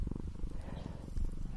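A cat purrs close up in a rural farm setting, a low, continuous rhythmic rumble with soft pulsing breaths, heard alone and intimately near.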